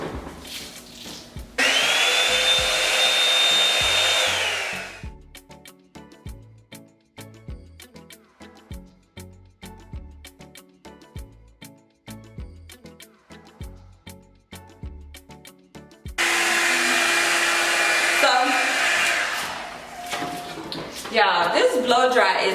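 Revlon One-Step hair dryer blowing hair, a loud steady whirring roar in two bursts of a few seconds each, separated by a stretch of quieter tapping and handling sounds.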